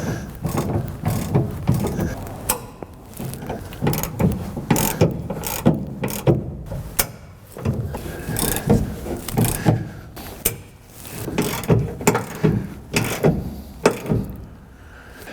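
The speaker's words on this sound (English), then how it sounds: "Get my ratchet, snug it up, and then torque it." Over about fifteen seconds a hand ratchet snugs up bolts on a truck in repeated bursts of clicking, separated by short pauses and shuffles of metal handling.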